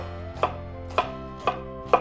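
Knife chopping through an onion on a cutting board, four sharp, evenly spaced cuts about half a second apart, close and clear with no talking.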